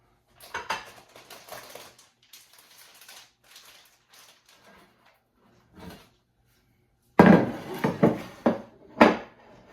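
Dishes, pots and pans clatter and knock in a kitchen sink piled high while cooking chicken enchiladas, with scattered quieter clinks at first and then a louder burst of close, sharp clanks near the end.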